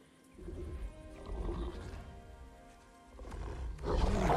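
A wolf in God of War Ragnarok growls and snarls in low, rough bursts that swell and fade across a few seconds, loud and close.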